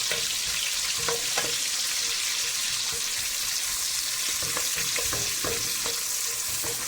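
Mutton keema for biryani fries in a pan with a steady, close crackling sizzle, broken by occasional scrapes and clicks as it is stirred, with no talking.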